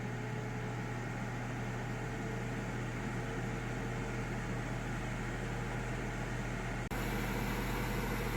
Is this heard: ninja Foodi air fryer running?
yes